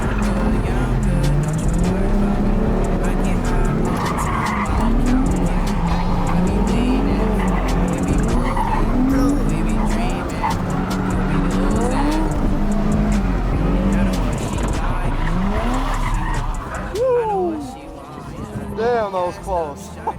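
A drift car with a hydraulic handbrake slides around a patchy track, its engine roaring loud and close throughout while tires squeal in long wavering tones, ending in sharp rising skid squeals as the car snaps sideways.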